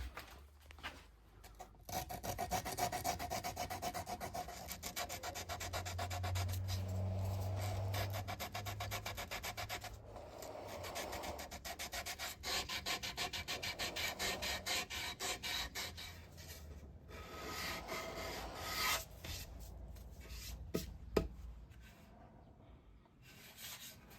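A guitar body is sanded by hand with flexible 120 grit cloth tape, giving close, steady rasping strokes that continue almost without pause, alone and fairly quiet.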